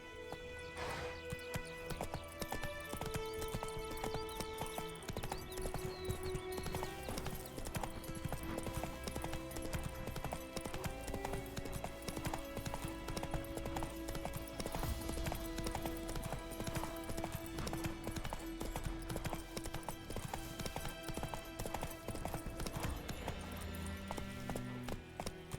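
Roach, Geralt's horse in the video game The Witcher 3, trots and gallops, giving continuous rhythmic clip-clop hoofbeats that run under music and ambient game sound for the whole stretch.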